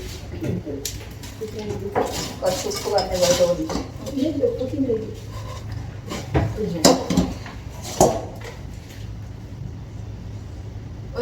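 A spatula mixes a fried Kerala snack mixture of crushed pakoda, peanuts and curry leaves in a pan, giving close scraping and clattering strokes under intermittent talk.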